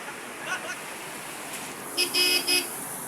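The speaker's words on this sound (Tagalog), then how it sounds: "Daming traffic dito guys." Busy road traffic with car horns honking in short, loud bursts near the end, over a steady wash of vehicle noise and rain-soaked street sounds.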